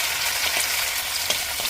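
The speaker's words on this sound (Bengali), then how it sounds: "এগুলোকে অল্প করে আলুটা মিশতে হবে" Potato slices fry in hot oil in a wok, giving a steady close hiss with faint crackles throughout, no voices.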